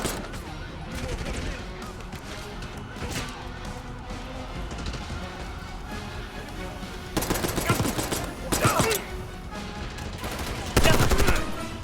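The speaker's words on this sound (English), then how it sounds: "Machine gun!" Machine gun fire in Call of Duty: Black Ops 6 campaign combat, with sustained gunfire throughout and louder, dense bursts near the end, partly under shouted voices.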